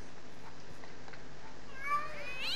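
Agitated cats meow in the Minecraft Mo'Creatures mod, a faint rising cry near the end over a quiet game background, with no talking.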